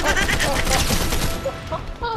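Enemy gunfire in Fortnite, dense, rapid, loud shots rattling continuously, mixed with game effects and a few tonal chimes near the end.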